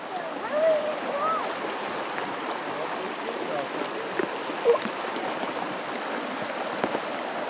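Steady patter of rain under a broad watery wash outdoors on a raccoon hunt, with a faint bird call early on and no clear speech.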